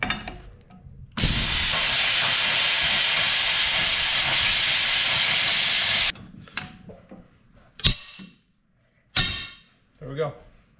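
A spare metal pipe is being cut, giving a steady, loud, hissing grind that runs for about five seconds before stopping, followed by a few short, sharp bursts of noise. No one talks.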